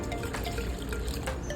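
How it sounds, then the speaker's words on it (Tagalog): Water is poured into a pot of sautéed chicken for binayabasang manok, making a steady, close splashing and trickling sound that runs throughout. "maglagay na po tayo ng 3 cups ng tubig"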